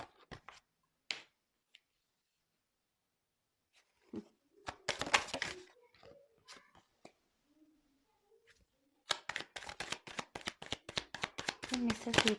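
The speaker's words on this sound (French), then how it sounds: "je tire les cartes" Tarot cards riffle and slap as they are shuffled and drawn, with sparse soft flicks early, a flurry around the middle, and a rapid run of crisp shuffling at the end, close and fairly quiet.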